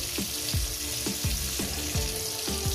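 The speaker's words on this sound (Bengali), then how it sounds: "এই ভাজার মধ্যে টমেটোটা ভাজতে ভাজতে আমি টমেটোর যে খোলাটা আছে সেটা ফেলে দেবো" Tomato pieces sizzle in a hot frying pan while a utensil scrapes and stirs at a regular pace, about five strokes over a constant crackling hiss.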